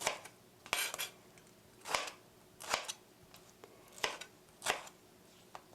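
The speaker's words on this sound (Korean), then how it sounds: "1cm로 잘라주세요" A knife chopping ingredients for a tomato sauce rice bowl into 1 cm pieces on a board, about seven crisp cuts in a steady, unhurried rhythm, close and clear with no voices.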